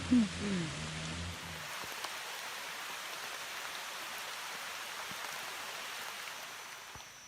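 Steady rain pours in a dense, even hiss at a reservoir where someone is fishing in Thailand, continuous and fairly close, with a brief low voice and a few soft knocks at the start.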